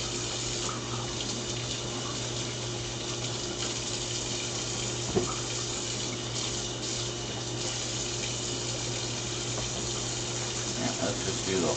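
Vegetables rinsed under a running kitchen tap, a steady continuous rush of water close by with a faint low hum beneath and one small knock partway through.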